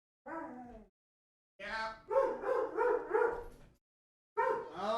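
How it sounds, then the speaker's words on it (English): Several dogs at home bark at an arriving guest in loud, close bursts: a short volley, a pause, a longer run of barks, then another outburst, with one brief spoken word. "so the dogs are going to lose their minds especially bad"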